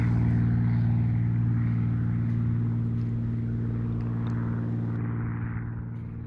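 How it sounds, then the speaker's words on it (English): A propeller airplane takes off near Emmett City Golf Course in Emmett, Idaho, a steady low engine drone that gradually fades as it draws away. "I notice a plane's taking off"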